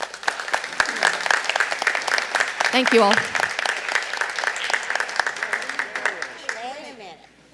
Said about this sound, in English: So I want to applaud them,